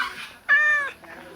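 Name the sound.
cat meowing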